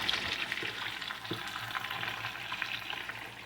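Several tortilla shells fry together in hot grease, giving a dense, continuous crackling sizzle at an even level, close up and with no talking.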